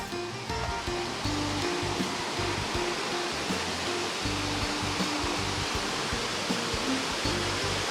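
Saeng Chan waterfall in Ubon Ratchathani, swollen with muddy rainy-season water, roars in a loud, unbroken rush that fills the whole scene without pause.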